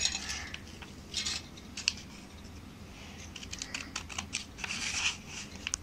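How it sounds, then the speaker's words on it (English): Scissors trim half circles out of paper for a children's craft. The snips come as quick, light, irregular clicks and rustles, close and fairly quiet. "Using the scissors, just trim it."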